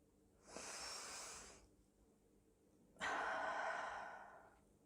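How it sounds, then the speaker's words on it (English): Two slow, deep breaths, each a soft airy inhale-exhale rush close to the microphone, separated by a quiet pause, with no talking. "Take a deep breath."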